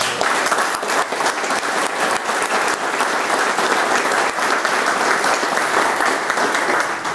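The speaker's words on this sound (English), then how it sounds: "but I'd like to give them a round of applause" Audience at the dedication of a new CACI facility in Purdue Research Park gives a sustained round of applause, loud, even and continuous throughout with no voices on top.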